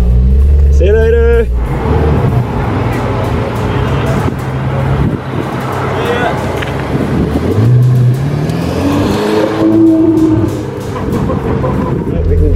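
A Ferrari pulls away with a loud, continuous engine roar that rises and shifts as it accelerates, alongside road noise, while people talk over it.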